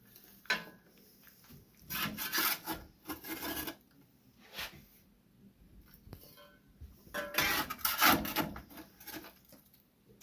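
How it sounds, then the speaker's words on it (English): A scoop rasps and scrapes small coals out of a Tarm Solo wood boiler in several uneven bursts, with quieter gaps between the scrapes. "But all this small stuff I'll scoop out."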